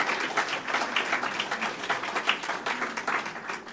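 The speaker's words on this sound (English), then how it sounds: "maybe you could all just give them a round of applause" A lecture-hall audience gives a sustained round of applause after a talk on ISIS, dense steady clapping from many hands.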